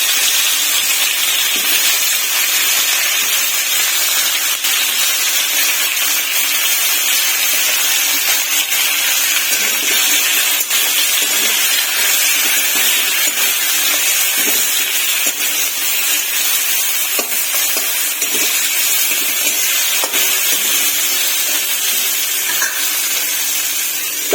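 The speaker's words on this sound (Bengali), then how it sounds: "এবার কপিগুলো ভেজে নেবো" Cauliflower fries in a pan with a loud, constant close sizzle and hiss, unbroken throughout with no speech.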